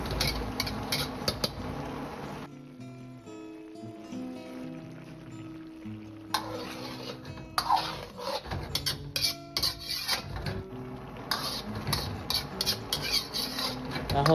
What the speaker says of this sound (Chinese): 用勺子推动几下划开调料